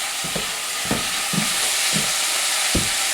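Onions and peppers sizzle steadily in a hot pan, with a knife blade scraping and stirring through them in several short, distinct strokes over the constant frying hiss.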